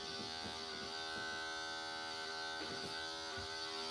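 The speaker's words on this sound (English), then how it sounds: "Taking your clippers and going up." Electric hair clippers buzz steadily and close up while cutting hair for a fade, a constant motor whine with slight changes in pitch as the blades move upward through the hair.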